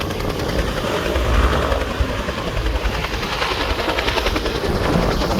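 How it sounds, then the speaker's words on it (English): Strong wind roars outside during wildfires at Pearly Beach and Stanford, a loud continuous buffeting rumble that surges and pulses throughout with no pause. "you can probably hear in the background just how strong the wind is outside."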